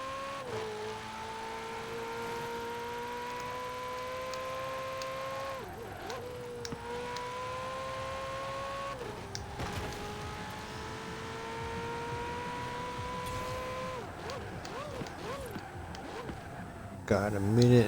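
A Ferrari engine drones in Forza Horizon 4, holding a steady high tone with repeated gear shifts and revs rising and dropping, under someone talking.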